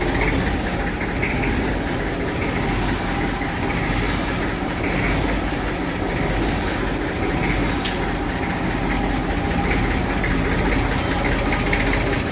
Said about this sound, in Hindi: मैसी स्टार्ट कर लिया है